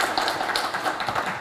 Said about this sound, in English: Please, let's give Your Excellency a better round of applause.